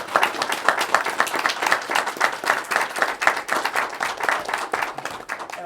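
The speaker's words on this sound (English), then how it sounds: "big Blackstone applause for y'all" A smaller gathering at a council meeting applauds coaches and players, with distinct, uneven claps from a modest number of hands pulsing close by for several seconds.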